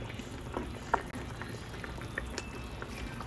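A pot of meat with onion and garlic boils as its water cooks off, giving steady close bubbling and popping with small sizzling pops scattered throughout.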